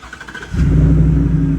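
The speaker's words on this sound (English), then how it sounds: "let's start the truck up" A 2023 Ford F-150 pickup truck engine cranks briefly and catches, settling into a loud, steady low rumble that continues to the end.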